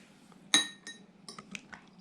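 Glasses clink together in a toast over a meal of oyster bossam. One sharp bright clink comes first, followed by several lighter, fainter taps a moment later.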